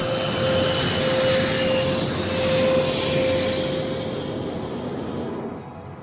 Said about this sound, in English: The result, a rapidly descending aircraft.